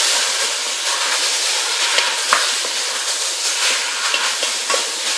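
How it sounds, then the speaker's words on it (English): Food sizzles loudly in a cooking pot while it is stirred, producing a steady, dense, close hiss with a couple of faint scraping clicks from the utensil and no talking. "And another stir."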